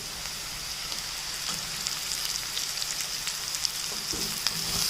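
Chopped onions sizzle and fry in a pan with half-cooked bitter gourd, a steady close crackle with scattered pops and spits throughout.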